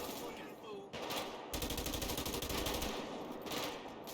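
Automatic gunfire in a GTA V zombie mod, sustained bursts of rapid shots with a brief pause, loud and close, over game background noise.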